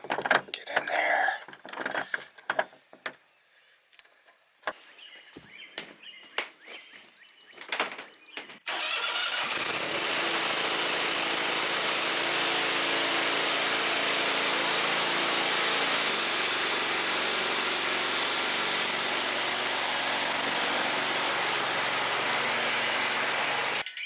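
Engine of a fruit tree sprayer starts after a few clanks and knocks, then runs loud and steady close by for about fifteen seconds without interruption.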